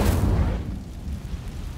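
Incendio fire spell cast in Hogwarts Legacy, a loud whooshing burst of flame that flares at once and then settles into a low rumbling roar for a couple of seconds.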